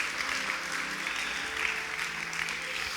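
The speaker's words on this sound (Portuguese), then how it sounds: "Pode aplaudir a Jesus." Church congregation applauding steadily, a dense, even wash of clapping from many hands filling the room, with faint voices mixed underneath.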